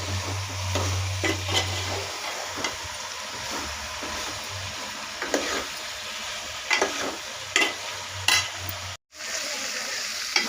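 Vegetables for a dried fish and brinjal curry sautéing in a pan, a continuous close sizzle with intermittent scraping stirs and a low hum early on, ending in a brief cutoff.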